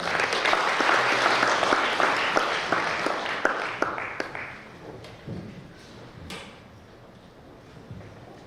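Audience applause at a community briefing on an apartment reconstruction plan in Bucheon greets the presenter: a dense wash of many hands clapping that fades after about four seconds, leaving quiet room sound with a few scattered claps.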